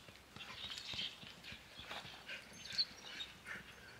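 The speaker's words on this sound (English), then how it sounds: "Take your stick you were chewing on, pup." At a truck campsite, a dog chews on a wooden stick, making irregular soft cracks, crunches and gnawing clicks up close against a quiet background, with no one talking.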